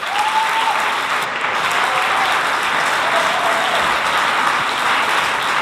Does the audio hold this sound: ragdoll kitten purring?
no